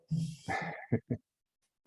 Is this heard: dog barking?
yes